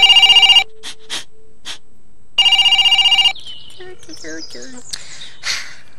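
A telephone bell rings loudly in two rapid trilling bursts, separated by short vocal sounds, followed by chirpy, playful voice noises.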